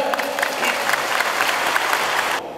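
An audience of volunteer police at a review ceremony in a Keelung gymnasium gives loud, sustained clapping that cuts off abruptly near the end.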